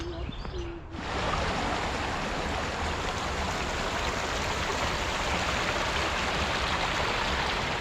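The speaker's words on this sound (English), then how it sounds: "Just getting B-roll of the stream" A stream flowing near a river and railroad tracks, a steady broadband rush of water that swells in abruptly after a quieter opening second and then holds constant and close.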